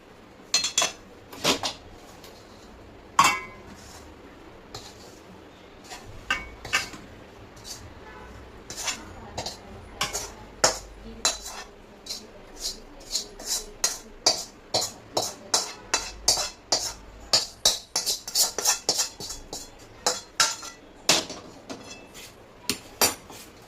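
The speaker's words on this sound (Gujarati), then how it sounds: "એની અંદર હવે આપણે આ ત્રાસની અંદર એડ કરતા જવાના છીએ" A spoon taps and scrapes sharply and repeatedly against a ghee-greased metal tray as a sweet coconut mixture is added and spread. The clatter is close and irregular and grows quicker and denser toward the end.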